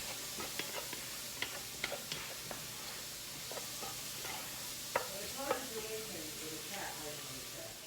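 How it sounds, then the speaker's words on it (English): Clam chowder being stirred in a pot, with a spoon scraping and clinking in scattered light strokes over a steady low hiss throughout. "Give her a good stir."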